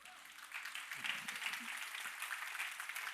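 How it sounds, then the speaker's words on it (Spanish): Church congregation applauding after a sermon prompt, a steady wash of clapping at moderate distance with a faint voice murmuring underneath throughout. "Dense un aplauso."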